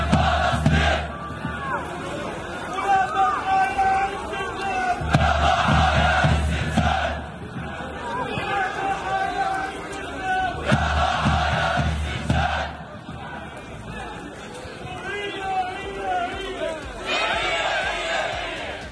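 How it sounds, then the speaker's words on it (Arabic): Spectators at a Palestinian football match between Shabab Al-Khalil and Al-Samu chant in unison from the stands. The loud, rhythmic crowd voices rise and fall in repeated surges, with whistles and shouts breaking through the massed singing. "لم تخلو المدرجات الرياضية الفلسطينية من هتافات دعم ومساندة من القلب، وذلك خلال مباراة شباب الخليل والسموع"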